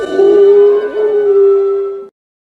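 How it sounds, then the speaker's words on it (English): A single sustained howl, loud and close, holding one steady pitch for about two seconds before cutting off abruptly. "They say when the wind blows, you can still hear the tramp howl."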